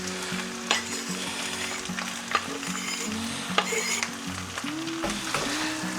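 Onions sizzle as they fry in a pan, a steady close crackle and hiss with occasional light clinks of a utensil stirring against the pan, no talk.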